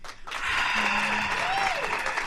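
A studio audience claps to welcome a singer at a live radio session, a steady broadband patter of hands held at moderate level for about two seconds, with a brief tonal whistle or cheer rising over it.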